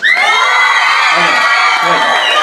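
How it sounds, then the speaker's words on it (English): A practising audience erupts together, loud and continuous, with shrill whistles and high screams over steady cheering and clapping, close and filling the whole moment. "scream and whistle and clap like you would for the most beautiful woman you've ever even heard of"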